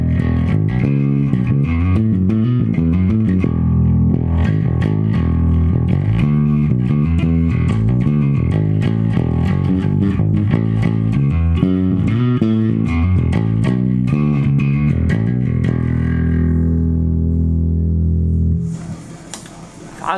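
Distorted bass guitar played through a Blackstar Unity U500 bass combo amp with its distortion engaged, a loud gritty riff with a steady rhythm that rings out and fades near the end.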